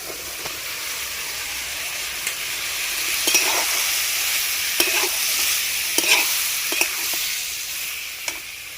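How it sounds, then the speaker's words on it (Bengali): Potatoes and mushrooms hitting well-fried spices with kasuri methi for a mushroom curry, a loud steady hissing sizzle up close, punctuated by occasional spatula scrapes and clinks. "মশলা আমার ভালোভাবে ভাজা হয়ে গেছে। এর মধ্যে এবার আলু আর মাশরুমগুলো দিয়ে দিব।"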